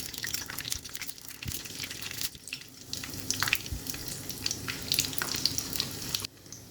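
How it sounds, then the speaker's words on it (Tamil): Mustard seeds are tempered in hot ghee for sambar rice, giving a steady close sizzle with crackling pops and stirring scrapes that cuts off near the end. "இப்போது நம்ம நெய் ஊற்றி தாளிச்சிக்கலாம்."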